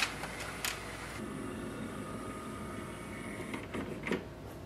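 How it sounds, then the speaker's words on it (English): HP Smart Tank 7300 printer scanning pages, giving a steady mechanical whir with soft clicks and a brief louder scanner movement near the end, close by with no talk. "So all the pages are scanned and printer will transfer them here."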